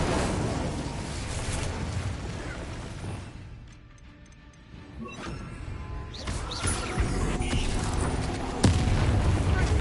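Booming crashes of spellcasting, including an Incendio fire spell, in a Hogwarts Legacy battle, loud blasts fading into a brief lull, then more bursts and impacts building up again.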